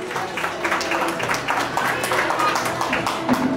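Applause and clapping from an audience at a school graduation ceremony for a graduating student, a steady wash of hand claps sustained throughout, with voices mixed in.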